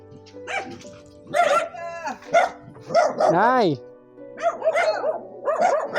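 Several dogs bark and yip in bursts, close by and loud, with one drawn-out howling whine in the middle; a person briefly shouts among them.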